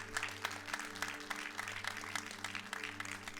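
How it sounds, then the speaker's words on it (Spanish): Church congregation applauding during a sermon, a steady patter of clapping from a crowd, fairly faint and distant, with a low steady hum underneath. "Den un fuerte aplauso al Rey de Reyes."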